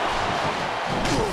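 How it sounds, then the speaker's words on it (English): A wrestler is thrown to the mat in the WWE SmackDown vs Raw 2009 video game, a dull heavy slam thud set in steady arena crowd noise. "And he tosses his opponent down to the ground."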